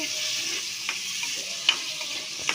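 Cleaned mutton sizzles steadily in a hot pan over fried onion pieces, a constant quiet frying hiss with a few soft stirring clicks.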